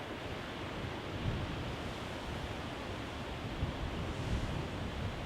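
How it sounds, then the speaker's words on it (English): Wind blowing hard over open water with waves and whitecaps, a steady dense roar of surf and gusting wind noise buffeting the microphone, continuous and fairly loud with no voices. "You can see the wind just whipping off of the water, moving the waves, creating some white caps in the background, and Marvin's just ready to be done with tha"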